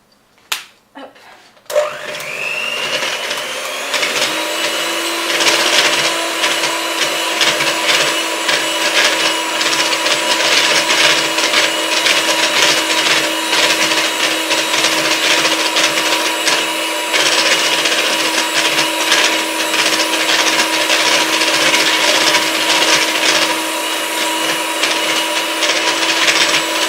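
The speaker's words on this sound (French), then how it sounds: "Et on va avec un fouet électrique pendant quelques minutes." Electric whisk beating 100 ml of cold milk with a Dr. Oetker café gourmand dessert mix, a steady loud motor whir running continuously after a brief start, with no talking.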